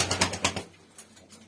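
Tumbler pigeons call and wings flap in a few quick bursts at the start, then fade to quieter rustling and faint coos.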